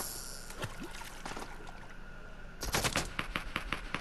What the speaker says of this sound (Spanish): Pero me está disparando a mí.